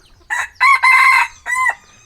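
A rooster, kept as a fighting cock on a Thai farm, crows loudly and close in two drawn-out calls, the second broken into bursts, with no other sounds around.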